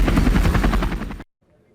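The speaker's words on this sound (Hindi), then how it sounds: "बेलारूस में स्काई ट्रक नाम के इस अनमैन्ड हेलीकॉप्टर का फ्लाइट ट्रायल किया गया है।" The Sky Truck unmanned helicopter with a Rolls-Royce engine, on a flight trial in Belarus, gives a loud, close, rapid rotor thudding that stops abruptly after about a second, leaving near silence.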